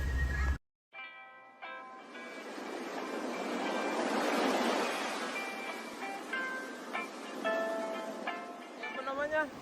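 Ocean surf rolls and rushes steadily at Ujung Genteng beach in Sukabumi, swelling to a broad wash midway, while people talk over it.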